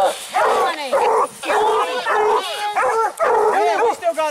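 Hunting dogs barking and yipping in rapid, loud bursts early in the hunting season, with brief whines between barks and human shouting mixed in.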